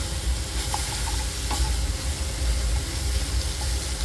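Drumstick flowers are tossed briefly in a hot frying pan, a dense continuous sizzle with a few soft scrapes and knocks of a spoon as they are stirred, close and without talking.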